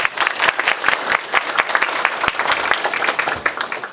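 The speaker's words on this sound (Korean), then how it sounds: "큰 박수 부탁드립니다" Audience applause follows a guest lecture at a university, a steady, dense clapping from a sizable crowd that fills the whole stretch without talk.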